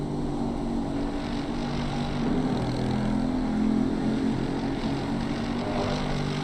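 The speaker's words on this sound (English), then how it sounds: "Just an absolute growl of an engine, you've got to love it." Mercedes endurance race car engine at a 6-hour race at COTA, a steady dense growl held at constant loudness throughout, with no talk over it.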